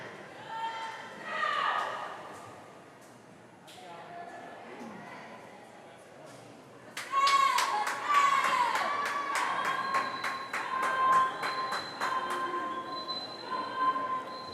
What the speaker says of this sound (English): Still getting good cheering here.